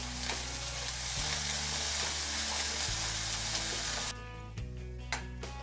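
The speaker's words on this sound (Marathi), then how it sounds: "आता हा मसाला आपल्याला तेलामध्ये चांगलं परतून घ्यायचं" Ground masala paste frying in oil for chana masala, a steady broadband sizzle with soft stirring scrapes that thins out near the end.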